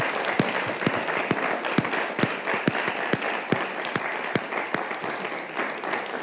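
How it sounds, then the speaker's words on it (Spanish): Sustained audience applause at an academic colloquium on the 1968 student movement and environmental leaders, a dense wash of many hands with sharper individual claps standing out, steady and fairly close, no talking. "quiero despedir a nuestros ponentes con un aplauso, por favor."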